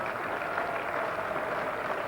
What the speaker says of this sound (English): crowd, relieved applause almost.